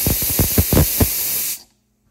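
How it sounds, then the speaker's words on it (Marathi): A 2-litre pressure cooker cooking soya pulao vents steam in a loud continuous hiss with a few rhythmic pulses, then cuts off abruptly into silence. "या ठिकाणी कुकरच्या सगळ्या शिट्ट्या झालेल्या आहेत."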